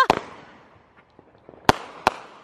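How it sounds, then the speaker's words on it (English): Three sharp Fourth of July fireworks bangs, one right at the start and two more close together near the end, with fading crackle and quiet gaps between. "This is where all the good fireworks were."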